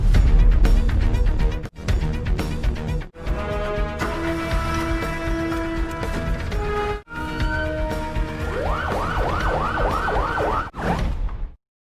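In a scene from the Bollywood action film Don 2, an ambulance siren arrives during a prison poisoning, its rapid rising-and-falling wail cutting in near the end over loud, driving film music.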